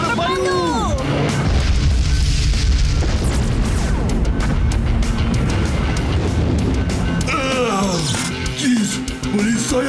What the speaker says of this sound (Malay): Tembakan bazuka halilintar terpadu.